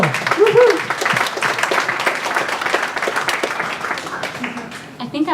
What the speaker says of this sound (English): So yeah, can I get a massive round of applause for Elle?